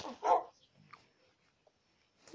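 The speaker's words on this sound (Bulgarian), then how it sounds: "Кучето ми излезна." Dog barking in the Minecraft video game, a short burst of a couple of yips near the start followed by faint quieter sounds, with no talk over it.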